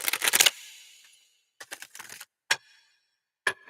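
Tarot cards being shuffled by hand, a short riffling burst at the start followed by a few isolated crisp card taps and flicks in an otherwise quiet room.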